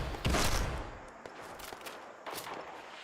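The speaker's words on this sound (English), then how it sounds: "Who's shooting me with the grenades?" Grenade blasts and rapid gunfire in the video game Fallout 76, a loud burst up front followed by scattered shots and a second blast, no talk.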